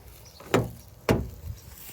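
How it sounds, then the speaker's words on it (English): A car door is worked during a pet desensitization session, giving two distinct close mechanical clunks about half a second apart, each a sharp thud with a brief rattle, against a quiet background. "Now I have to open the car door."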